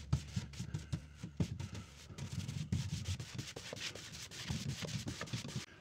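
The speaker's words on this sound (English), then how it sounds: "some sanding to clean up the edges and the face" Hand sanding the edges and face of a wooden cabinet door, steady scratchy strokes in a quick back-and-forth rhythm, close and continuous.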